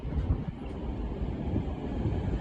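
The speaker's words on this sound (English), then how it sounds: "I'll be hopping in this train." A V/Line train at a station gives off a low, steady rumble and hum, a continuous rail-vehicle drone with no talk.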